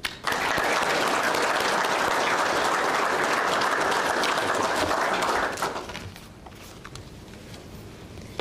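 Audience at a St Florian's Day ceremony applauding award recipients, a dense, loud burst of clapping that holds for about five seconds and then fades off to scattered claps and room noise.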